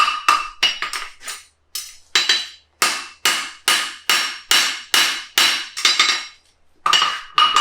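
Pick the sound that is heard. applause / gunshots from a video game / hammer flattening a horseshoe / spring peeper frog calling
hammer flattening a horseshoe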